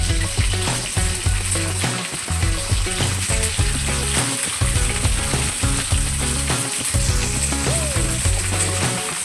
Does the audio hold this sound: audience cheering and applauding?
no